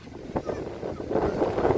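Strong rainy-season wind gusts buffet the microphone out in open rice fields, rising into a rough, rumbling roar toward the end.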